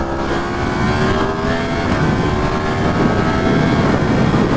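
A Yamaha FZ-10 motorcycle accelerating hard under loud wind rush, the engine whine climbing in pitch, dropping with a quick-shifter gear change, then climbing again.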